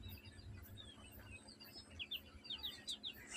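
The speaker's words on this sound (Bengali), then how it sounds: "কত সুন্দর কোয়েল পাখির বাচ্চা।" Quail chicks on a quail farm cheep in quick, high, thin bursts, several close peeps clustering toward the end over a low background hum.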